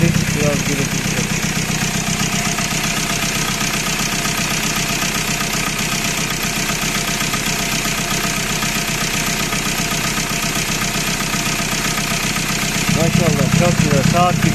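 Ford Transit Custom 2.2 diesel engine idling with its filter pipe removed, a loud, steady, rattly drone that runs evenly throughout, with a voice speaking over the last couple of seconds.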